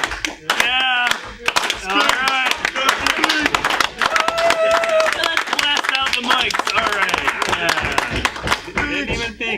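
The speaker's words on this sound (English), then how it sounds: "Are we on slow clap?" A small podcast group's slow clap, loud separate hand claps building in rhythm while several people talk and cheer over them up close.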